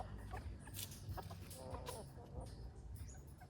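Silkie chickens cluck softly at a zoo in St. Elizabeth, Jamaica, in scattered short calls over a steady background hum of the outdoor enclosure.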